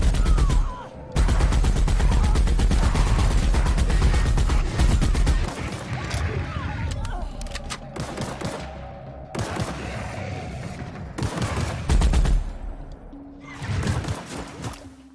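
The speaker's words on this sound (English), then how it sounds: "shoot, listen to the gun sounds all day" Dense gunfire from the video game Fallout: New Vegas, with loud rapid bursts and booming shots packed into the first seconds, then sparser shots and reports continuing over game ambience.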